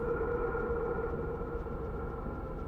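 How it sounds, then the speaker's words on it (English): A tram in the SCP: Fragmented Minds video game gives off a steady, droning mechanical rumble and hum with a tonal whine on top, continuous and loud, with no voices over it. "Weird tram noises."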